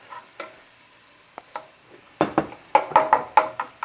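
Rice for Japanese-style fried rice hits a hot pan and is stirred, with light sizzling and a series of sharp knocks and scrapes from a utensil against the pan growing busier toward the end.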